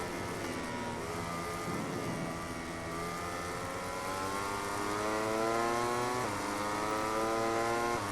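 A rival racing motorcycle engine in MotoGP 18 on a wet Buriram track howls close behind, its pitch rising and falling through gear changes, loud and steady for the whole stretch.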